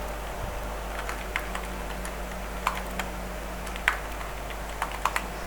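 Python code typed on a computer keyboard, soft irregular key clicks with a few sharper taps over a steady low hum, fairly quiet and close.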